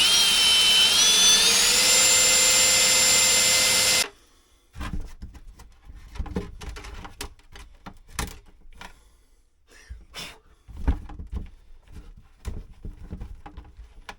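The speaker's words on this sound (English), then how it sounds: "I'm going to drill the holes out for the buttons on the other side" A power drill whines loudly and steadily for a few seconds drilling button holes in a battery box, then stops, followed by scattered scraping and knocking noises of handling.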